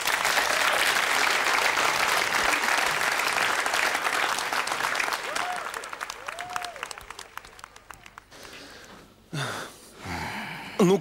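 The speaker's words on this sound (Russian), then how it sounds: "Под ваши аплодисменты." Dense applause from a large theatre audience at a benefit performance, loud and sustained, thinning out into scattered claps before voices and breaths take over near the end.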